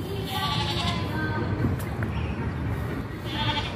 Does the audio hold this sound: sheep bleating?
yes